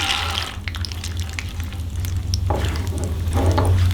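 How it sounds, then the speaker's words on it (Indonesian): Peanuts frying in hot oil, a steady close sizzle with a low continuous hiss and occasional stirring scrapes throughout, no voices. "kita lanjut dengan menggoreng kacang ini ada kacang kita goreng"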